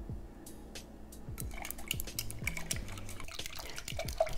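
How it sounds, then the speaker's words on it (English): A bamboo whisk stirs matcha green tea powder into water, giving soft, continuous wet swishing and small liquid ticks that grow busier, with faint low background tones and no talking. "So I'm just gonna continue mixing until I get it all dissolved."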